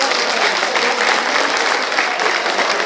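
A tribute concert audience gives a singer a loud, sustained round of clapping, dense and close, with faint voices mixed into the crowd noise.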